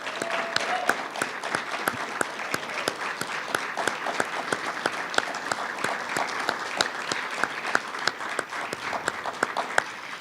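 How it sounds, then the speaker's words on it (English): A round of applause for the nursing class of 2020 at a school of nursing pinning ceremony; steady, moderately quiet clapping with individual sharp claps standing out, continuing evenly throughout without speech. "join me in a round of applause for the class of 2020"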